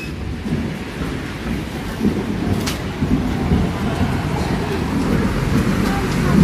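Thunder rumbles low and steadily before rain, a continuous roll under a noisy outdoor scene with traffic and murmuring voices.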